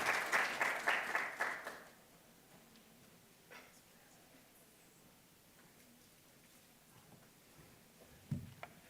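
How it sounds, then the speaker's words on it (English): Audience applause bursts loudly for about two seconds, then fades quickly into quiet room tone with a few faint scattered sounds. "Can we please give our case studies a warm round of applause"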